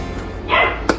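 A couple of short dog barks ring out close by, one drawn-out yelp followed by a brief sharp bark, over quiet room noise.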